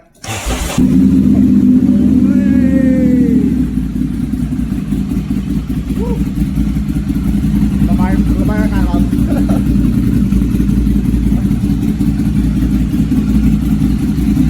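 A 2014 Ducati Monster 796 in Rossi MotoGP 46 livery with 15,081 km on it, started indoors and held at a loud steady idle with slight revs, close up, with people talking over it.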